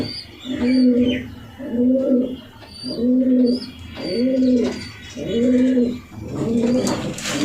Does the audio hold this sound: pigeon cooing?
yes